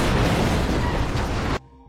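A loud, sustained explosion blast from an action film about special forces raiding a militant base, a dense roaring burst lasting over a second and a half before cutting abruptly to near silence.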